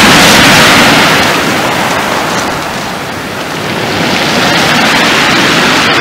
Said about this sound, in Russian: И море, море. Чистейшее море,